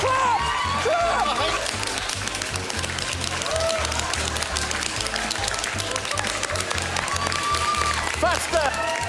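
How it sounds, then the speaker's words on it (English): A comedy-show audience claps steadily and fast, a dense wash of applause with scattered shouts and voices mixed in throughout. "Keep clapping."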